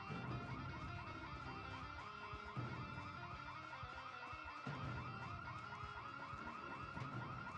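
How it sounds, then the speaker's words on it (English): Car alarms in the Project Zomboid video game wail on and on, a loud warbling siren-like tone cycling rapidly over pulsing beeps, unbroken and with no voices. "Oh, there's so many alarms going off."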